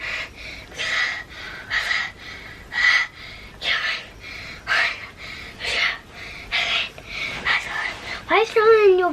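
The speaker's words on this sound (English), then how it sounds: "Why are you breathing so heavily?" Heavy, rhythmic breathing from a person close by, about a dozen loud, breathy inhale-exhale bursts in steady succession, with a squeaky vocal sound at the end.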